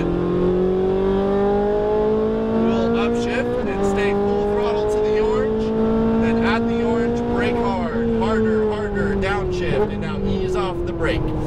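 A Ferrari 458 Italia on a race track accelerates hard at full throttle, its engine note rising steadily and loud through the gears with a brief shift dip, while a voice talks over the roar.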